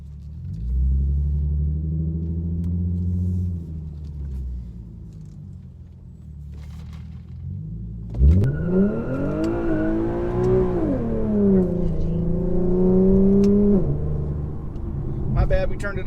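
A rear-wheel-drive Infiniti Q50 on Firestone Firehawk Indy 500 tires idles with a low rumble, then launches with traction control on. The engine revs hard and climbs in pitch as the car pulls away loudly. A voice is briefly heard near the start.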